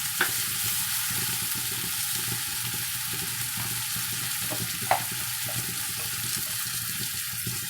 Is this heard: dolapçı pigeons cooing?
no